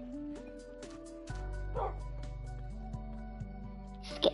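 Minecraft dog barking and whimpering in a video game, short yips and whines over steady game music and ambience, fairly close and moderate in level, with no talking.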